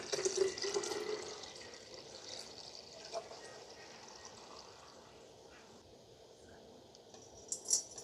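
Homemade almond milk pours through a small strainer in a soft, close trickle that fades gradually, with a few faint clinks and drips near the end.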